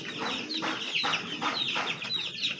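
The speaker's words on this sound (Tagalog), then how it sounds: "Yan mga ibon natin. Mga sisiyo natin, pinakawalan na natin lahat" Farm chickens and small chicks cluck and peep in repeated bursts, a busy, close chatter of fowl with no talking.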